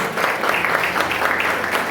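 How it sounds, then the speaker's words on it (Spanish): A church congregation claps together in sustained, steady applause, loud and close, filling the space without pause. "Denle una ofrenda de palmas al Señor, hermano."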